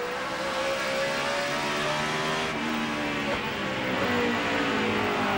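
NASCAR stock cars racing in a video game recreation of the 2006 DirecTV 500, a loud steady engine roar with rising and falling revs, several cars close together, no voices.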